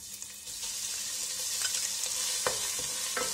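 Crushed green chilli, ginger and garlic hit hot coconut oil, giving a loud, continuous crackling sizzle with a few stirring knocks toward the end.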